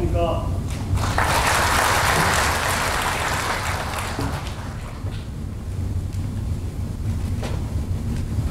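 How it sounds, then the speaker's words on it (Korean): Audience applause at an indoor public welfare policy forum in Yongin, Korea: steady broadband clapping fills the hall throughout, loudest early on and easing slightly toward the end, with some voices underneath. "큰 박수 부탁드립니다"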